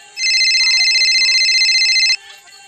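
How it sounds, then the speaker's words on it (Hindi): An electronic phone ringtone trills steadily for about two seconds with a bright, pulsing warble, then cuts off abruptly. "तो सिमोन फोन किया"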